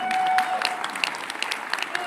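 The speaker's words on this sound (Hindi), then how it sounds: "एक बार जोरदार तालियां हो जाए" Audience at a press meet for a Ramayana film project applauding, a dense steady patter of many hands clapping close by, with a faint tone and some voices mixed underneath.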